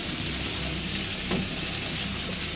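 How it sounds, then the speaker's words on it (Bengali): Pui shaak stems, pumpkin, potato and eggplant fry in a hot wok with a loud, dense, close sizzle that stays constant throughout, briefly broken by a stir, with no talking. "সমস্ত সবজিগুলোকে আমরা কড়ার মধ্যে দিয়ে দিলাম"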